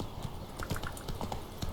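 Roach, the horse from the video game The Witcher 3, galloping with quick, rhythmic clip-clop hoofbeats, close and fairly loud over a faint background hum.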